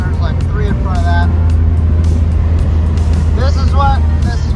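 Steady road rumble of a car cruising across the flat open plains of Kansas during Rocky Mountain Race Week, a loud continuous drone with faint whistling chirps riding on top throughout.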